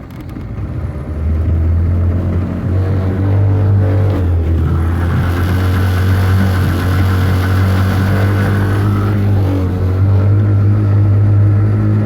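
A 1987 Blue Fin boat's outboard engine cranks and catches at about two seconds, then settles into a steady, loud, close idle with a low rumbling drone that holds without voices.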